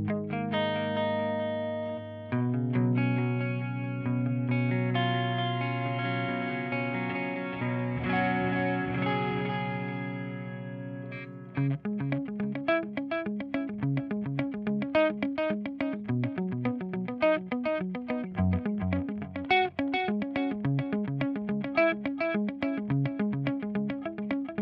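Electric guitar runs through a Strymon DIG delay pedal in 2496 mode: sustained chords ring with trailing repeats, then rhythmic picked notes echo in tight, even repetitions, clear and steady without talk.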